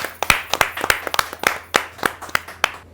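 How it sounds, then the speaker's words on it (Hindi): Sparse, distinct handclaps from a small audience at a Hindi poetry gathering (kavi sammelan) welcome a poet to the stage. Roughly a dozen claps land at an uneven, unhurried rhythm, fairly close and clear. "आप जोरदार तालियों से उनका स्वागत करें"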